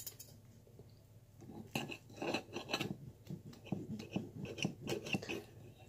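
Cutlery scraping and clinking against a plate while a vegan waffle is cut, a run of irregular close scrapes and taps that begins after a quiet opening and continues to the end.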